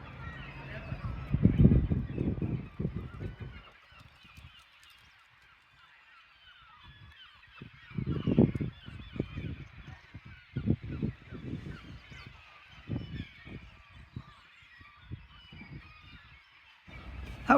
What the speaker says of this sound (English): Look at the birds out there.